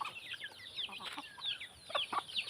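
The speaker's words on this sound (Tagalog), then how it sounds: "mapapansin nyo po mga kaparmers, and may mga sisiw sila" Free-ranging farm hens with their young chicks cluck and chatter, with thin high peeps scattered through a steady, moderately close stream of short calls.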